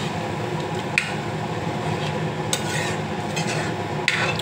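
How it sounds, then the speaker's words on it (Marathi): Chickpeas for chana masala being stirred in a pan, a soft continuous shuffle and light sizzle with a few sharp clinks of a spoon against metal, close and alone. "हलवून घेतो."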